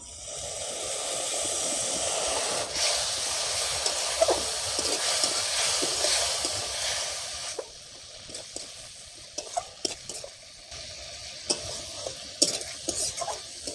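Hot spices, including ground cumin, sizzle loudly in a pan as a little water is added for paneer biryani, with scraping stirs and clinks, the hiss dropping off after about seven seconds into quieter intermittent scrapes.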